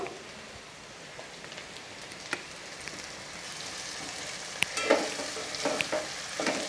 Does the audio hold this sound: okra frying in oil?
yes